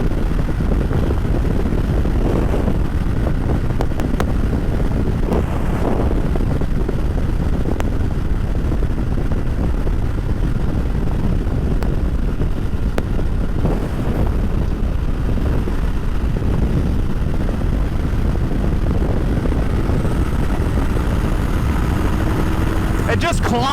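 A 2025 Indian Scout 101 motorcycle accelerates on the road, its low engine rumble mixing with steady wind buffeting, while the rider talks over it.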